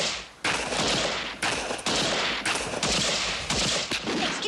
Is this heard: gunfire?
yes